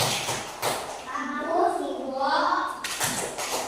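A classroom of children claps a short rhythmic routine, with sharp bursts of clapping at the start and end framing chanted children's voices in the middle.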